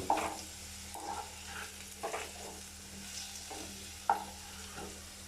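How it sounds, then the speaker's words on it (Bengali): Potato pieces frying in oil, a constant close sizzle with periodic stirring scrapes and a few sharper clinks, moderately quiet with no talking. "আলুর টুকরোগুলো খুব সুন্দরভাবে ভাজা হয়ে গিয়েছে"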